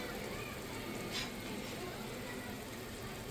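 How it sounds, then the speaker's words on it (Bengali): Bottle gourd, capsicum and onion leaves sizzle in a hot pan, a steady, soft frying hiss that runs evenly throughout with a brief brighter spurt midway. "এগুলো দিয়ে দিলাম এখন কষিয়ে নেব ভালো করে"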